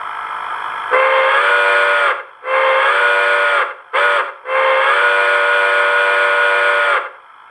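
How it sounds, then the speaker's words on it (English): A steam-style crossing whistle on a model IHC 2-10-2 locomotive with a DCC Tsunami 2 sound decoder sounds in a pattern of long blasts, a short toot, then a final long blast, loud and close. "This is the crossing whistle."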